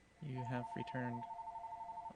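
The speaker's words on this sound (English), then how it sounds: "Sorry about my phone ringing." A mobile phone rings loudly nearby with a repeating electronic ringtone, steady pulsing notes that carry on to the end, while a person speaks briefly over the start.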